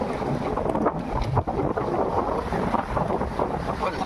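Strong wind roars steadily across the microphone beside a sinking seawall on the coast at Manukan, Zamboanga del Norte, with waves washing beneath the constant gusting rush.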